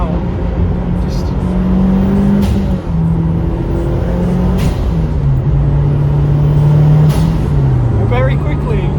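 A Honda Integra DC5 Type R fitted with a turbo spools up. The loud, steady engine drone carries a sustained whine that rises and dips as the boost builds over several seconds.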